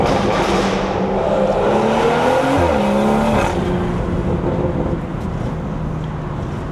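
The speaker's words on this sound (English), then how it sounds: "all these loud ass cars behind me" Loud cars passing by, including a BMW with a B58 engine, a roaring exhaust that rises and falls as they go past, heavy and continuous with no talking.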